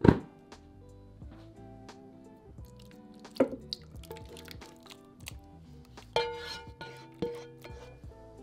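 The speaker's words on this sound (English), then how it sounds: "Now pour that liquid from the pan into the slow cooker." Liquid from a pan poured into a slow cooker while making smothered pork chops, with soft drips and splashes over steady background music.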